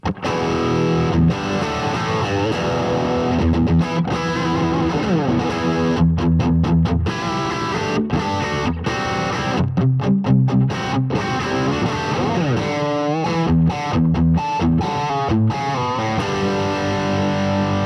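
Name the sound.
Fender Elite Telecaster electric guitar, heavy distorted tones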